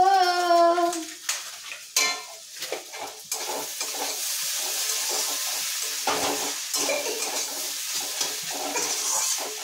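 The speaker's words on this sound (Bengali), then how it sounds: "মশলা কষা হয়ে গেছে।" Spices sauté in a hot pan while being stirred, a steady close sizzle with scraping and clinking spoon strokes throughout, no talk.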